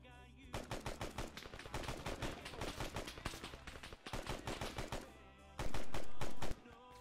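Sustained automatic gunfire in the military shooter Arma 3, rapid close bursts of shots in quick succession with a brief pause around the middle, ending in a loud continuous roar.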